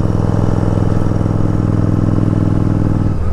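A Yamaha Virago motorcycle engine idles loud and close with a steady, even low throb and fine rhythmic pulsing, no sputtering, holding smoothly until a slight change near the end.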